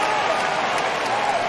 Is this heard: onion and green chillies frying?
no